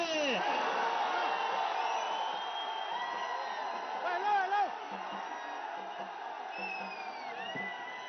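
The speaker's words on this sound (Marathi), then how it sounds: "राजीनाम्यानंतर तरुणाईचा एकच जल्लोष" Young student protesters cheer as a crowd after a government minister's resignation, a dense, continuous roar of voices with scattered whoops and shouts sustained throughout, fairly loud and close.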